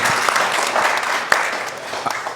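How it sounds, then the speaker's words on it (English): Press-conference audience claps briefly for four elite triathletes, a close, moderately loud patter of hands with a few sharper individual claps standing out. "A round of applause, please, for these 4 athletes who have joined us this afternoon."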